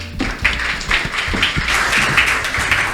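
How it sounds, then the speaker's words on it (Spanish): An audience breaks into applause at a lecture on personal finances and workplace productivity, a steady, moderately loud patter of many hands clapping for the full stretch. "le vamos a dar aquí un gran aplauso a Elaine"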